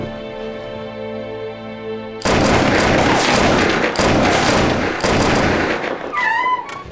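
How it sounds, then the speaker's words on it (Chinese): Battle gunfire in a Mongolian-steppe anti-Japanese war TV drama bursts in after a sustained musical tone, with loud, dense, continuous volleys and rapid shots that keep going to the end. "那为什么枪声越来越激烈？"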